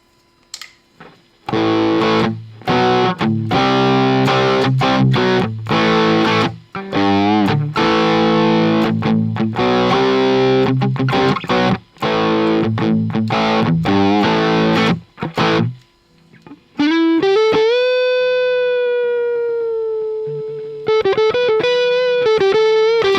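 Boosted electric guitar through an Archetype Nolly X amp on the edge of breakup, loud crunchy riffing with choppy stops, then a sustained bent note that rings out.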